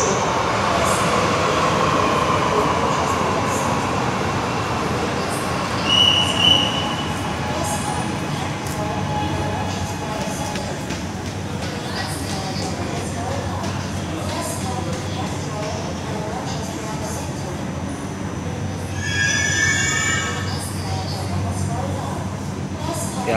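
Underground metro train pulling into a platform at a last station, a steady low rumble and rolling hum throughout with brief high squeals of wheels or brakes, under a busy station background with some voices.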